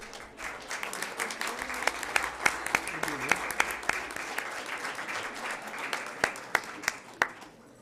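A board meeting audience applauds the Central Middle School golf team with crisp, scattered claps that build and linger, and some voices murmur underneath.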